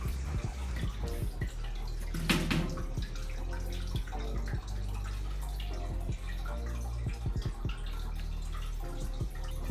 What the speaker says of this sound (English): so I can go ahead and start emptying the tank